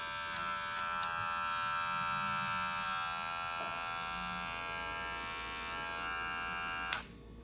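A GAMMA+ Protégé hair clipper runs with a steady, close electric buzz for about seven seconds, then switches off with a sharp click.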